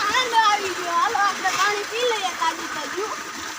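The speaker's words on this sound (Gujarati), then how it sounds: "મસ્ત મજાનું ઠંડુ પાણી." Cold water flows and splashes steadily at a village farm, a continuous bright rushing wash close by, while someone talks over it throughout.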